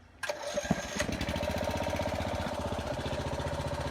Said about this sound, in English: I'm going to crank this machine, see if we can show some of this lift.